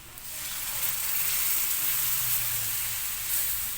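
Coconut milk, the second pressing, pours into a hot pan of laing and bursts into a loud, steady sizzle up close that holds throughout without talk.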